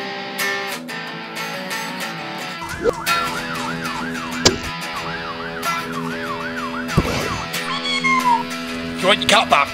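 A cat meows repeatedly in short wavering calls amid a busy scene, with wailing, siren-like tones and occasional sharp bangs mixed in.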